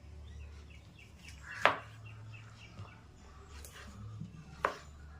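A knife chops buffalo fat into pieces on a board, a few sharp, isolated knocks spaced irregularly and fairly quiet, with faint background chirps and no talk.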